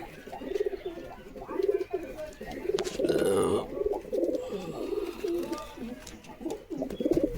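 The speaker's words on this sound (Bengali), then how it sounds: "এই হচ্ছে ডানা খুবই ভালো মানে কবুতর আছে" Pigeons sold as racing birds coo close by in soft, repeated rolling phrases, joined now and then by wing flutters, with someone talking over them.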